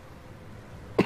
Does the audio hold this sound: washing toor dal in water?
no